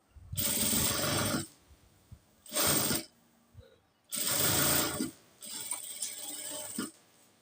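A sewing machine stitches a nighty's cross piece to the back panel, running in loud close bursts of about a second each with short pauses between, four runs in all and no talk.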